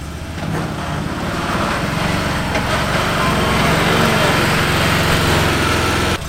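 A Can-Am Defender HD8 Max XT UTV fitted with a lift kit drives along, its engine a steady, close, buzzing drone that continues unbroken with no talk.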